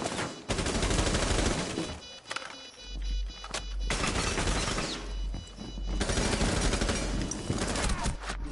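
Sustained loud gunfire in a Rainbow Six match, with bursts of automatic fire and crashing impacts rattling almost continuously and a few short gaps between volleys.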